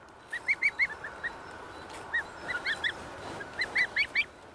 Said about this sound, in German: Jasmin darf die Gänseschar bei Lothar, einem Verwandten, im Garten unterbringen.